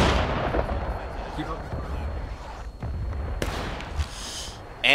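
Muskets fire in a Civil War battle in the game War of Rights, with dense, rumbling volleys and scattered sharp shots ringing out, near and distant, under shouting voices.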